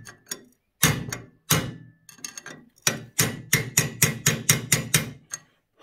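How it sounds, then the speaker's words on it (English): Sharp chisel hammered against a Suzuki DR200 motorcycle frame during a frame modification: a run of about a dozen loud, close metallic strikes, sparse at first and then a steady rapid rhythm, with no talking. "this is a sharp chisel"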